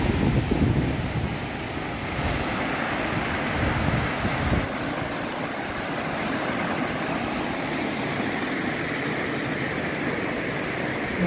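Cascata da Solitária, a roadside waterfall near a campground in Igrejinha, Rio Grande do Sul, Brazil, roars as a steady, loud broadband rush of falling water that fills the whole clip without letup.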